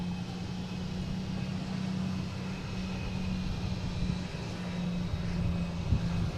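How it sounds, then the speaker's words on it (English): A United Boeing 737 MAX 9 airliner arriving at Boston Logan produces a steady, distant engine drone with a low hum. The sound stays even throughout, with no voices. "United here, coming in from San Francisco. 737 MAX 9, flight 2356."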